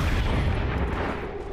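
Gunfire in the video game XCOM 2 booms heavily and fills the moment with dense, low, sustained rumble, loud and alone with no voices over it.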